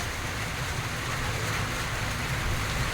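Steady rain pours down outdoors, a dense even hiss that continues without a break from start to finish.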